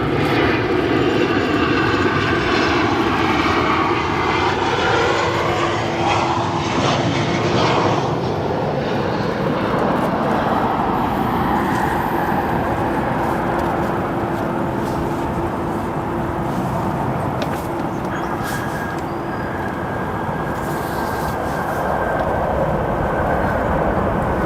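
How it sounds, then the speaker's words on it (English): A Boeing 737 jet arrives at O'Hare airport, its engine roar loud and sustained, fading gradually as the aircraft passes at a distance. "We have a 737 arrival that we will get for you guys now."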